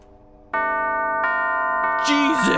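Bell sequence puzzle in Alice: Madness Returns sounding three clear, bright bell chimes struck in succession, each ringing on with long sustain, followed by a brief sliding tone and rustle at the end.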